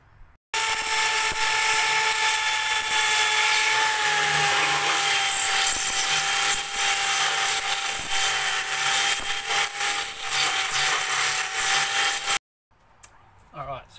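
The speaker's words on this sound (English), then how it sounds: "grab my drill bit and drill this hole out a little bit bigger" A power drill whines steadily at close range for several seconds, enlarging a bolt hole during a Ford BA/BF turbo intake install, a high continuous buzz with slight pitch wavering, then cuts off abruptly.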